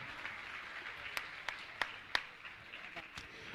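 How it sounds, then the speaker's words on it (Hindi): Sparse, scattered hand claps, faint and irregular, as a gathering applauds temple trustees at an honouring ceremony. "तालियां तो बजनी चाहिए।"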